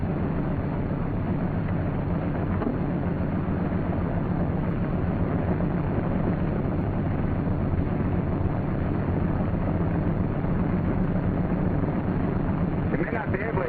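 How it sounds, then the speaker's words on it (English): A C-47 Skytrain's right radial engine starts and settles into a steady, loud, rumbling drone that fills the whole stretch without letup. "Now you start the right engine."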